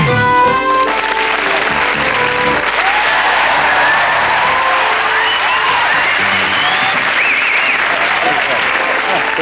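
A studio audience at a TV comedy show breaks into loud, sustained applause with some cheering and whoops, filling the room continuously after a brief musical sting at the start.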